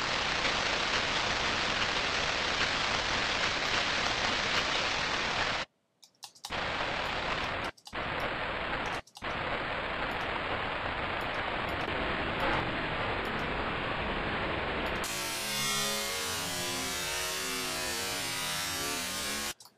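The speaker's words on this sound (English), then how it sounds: "now that we have that long stretching kind of sort of disoriented sound" White noise time-stretched in Ableton, a loud steady hiss that drops out briefly a few times, then turns into a rougher, bubbling stretched texture toward the end.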